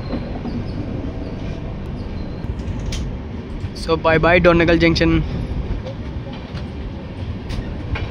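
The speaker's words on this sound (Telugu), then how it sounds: "డోర్నగల్ జంక్షన్ నుండి అయితే మన ట్రైన్ అయితే బయలుదేరిపోయింది" Satavahana Express LHB train pulling out of Dornakal Junction, a steady rumbling rail roar throughout, with someone speaking briefly over it midway.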